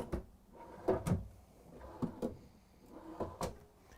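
Drawers in a 2020 Renegade Valencia 38RW motorhome slide open and shut several times, giving soft thuds and bumps in an otherwise quiet room. No one speaks.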